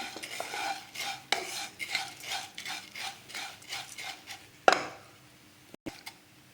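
Flattened rice (poha) being stirred as it dry-roasts in a pan, heard as a steady series of about a dozen scraping strokes in an even rhythm, close and moderately loud, with no voices.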